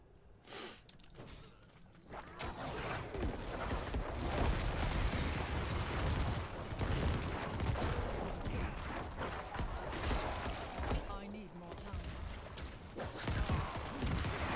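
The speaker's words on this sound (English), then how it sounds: "I'm not used to using corpse explosion at" Corpse explosion skill in the Diablo 4 video game: dense, rumbling blasts and bursts layered with game effects, sustained and loud over most of the stretch.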